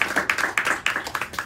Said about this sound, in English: a big round of applause for Sharon